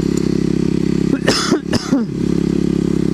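A Kawasaki KLX250sf motorcycle engine drones steadily while riding on loose gravel, its pulsing hum broken midway by a short burst of coughing from the rider before the engine tone resumes.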